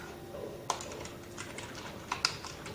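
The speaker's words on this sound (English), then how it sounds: "let me go ahead and go type these rules out for you real quick" Quick, soft keystrokes on a computer keyboard, a few sparse clicks with small pauses between them, close and quiet.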